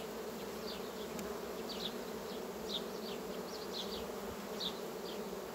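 Honeybees, red BK queen and Carpathian colonies, hum around an open hive frame in the sun, a constant close drone with individual bees buzzing past now and then. No one speaks.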